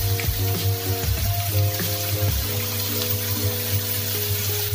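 Curry leaves and sliced onions fry in a pan for a spicy crab roast, giving a steady close sizzle over a low hum, with intermittent tonal clinks or squeaks throughout.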